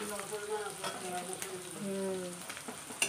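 Prawns fry in a pan with a continuous close sizzle and crackle, with a few stirring knocks and a sharp tap near the end.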